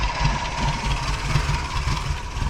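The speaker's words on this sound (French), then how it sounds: "Le ralenti il est pas terrible." A Volkswagen Golf 1 GLI engine idles with a low, steady rumble, continuously, slightly uneven and rough from a fault, with no voices over it.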